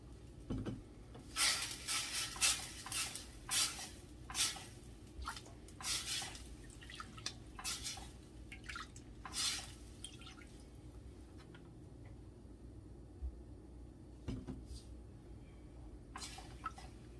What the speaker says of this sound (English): now you're going to add some ragu sauce because I don't use no oil